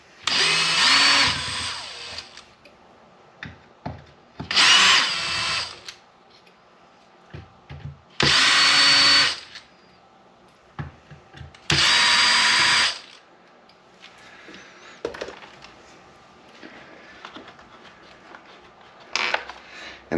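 A power drill backs motor screws out of a Traxxas X-Maxx Ultimate Wide RC truck. Four loud, close whirring bursts of one to two seconds each are separated by quiet clicks and handling noises, with a faint short whir at the end.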